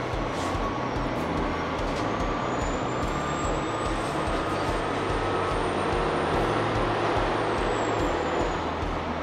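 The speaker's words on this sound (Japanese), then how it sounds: "ディーゼルの豪快なエンジン音でものすごいスピードで加速をしていく浜名瀬編成です" A KiHa 261 series-based diesel train, the Hamanasu set, accelerates hard with a loud, steady engine roar and rumble that holds strong throughout, a rising whine running above it, with no talking.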